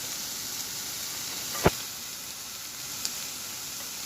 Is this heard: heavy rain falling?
no